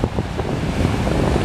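Strong wind and breaking waves roar together in a dense, continuous rush on Pattaya Beach on a windy morning.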